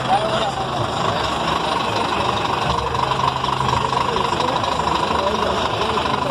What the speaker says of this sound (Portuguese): Caminhão usando a suspensão ar aí, ó.